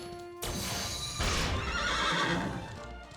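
A horse neighs loudly in the Dragon Quest XI video game, a long close whinny over clip-clopping hooves, with no one talking.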